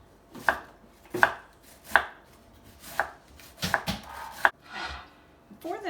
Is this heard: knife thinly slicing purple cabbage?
yes